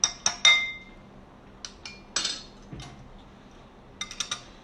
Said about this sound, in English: I made a clinking sound, a clinking against glass